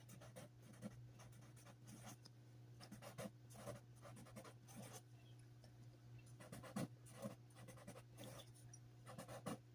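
Pen scratching on paper as a partner's name is written by hand seven times, quiet close strokes in short irregular bursts over a steady low hum.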